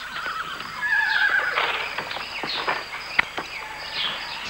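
A horse whinnies close by during a ride, a shrill rising-and-falling neigh lasting about a second, followed by snorts, rustling and scattered hoof or footstep sounds in an outdoor setting with faint insect chirps.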